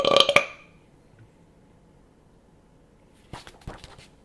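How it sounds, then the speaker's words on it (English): A loud, short burp erupts right at the start, followed by quiet and then a couple of fainter rough sounds near the end, in a story read aloud for children. "And then she burped with glee."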